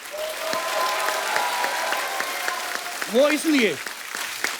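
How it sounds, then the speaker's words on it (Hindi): Strong audience applause on a comedy talk show set, steady and dense, with a voice briefly speaking near the end. "एक बार जोरदार तालियां बनती हैं"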